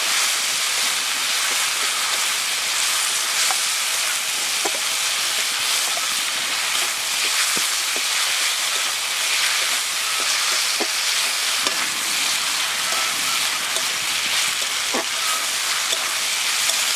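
Onion, ginger-garlic paste and tomato fry for lauki sabji in a pan, giving a loud, steady, dense sizzle with a few faint scrapes of stirring, and no voices.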